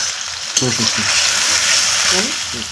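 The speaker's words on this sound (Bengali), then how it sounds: "নাড়তে থাকুন তাহলে পেঁয়াজটা পুড়ে যাবে না" Onions fry in a pan at night, a loud continuous sizzle with stirring scrapes, and a voice talks intermittently over it.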